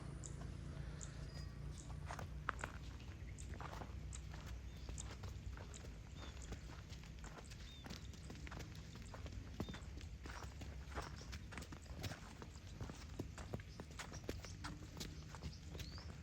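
A pregnant buffalo for sale, being led on foot in a Punjab village, its hooves producing a run of soft, irregular clopping steps over a steady low outdoor background.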